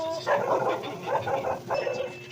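A dog barks several times in quick succession at moderate distance, short sharp yaps against a quiet background.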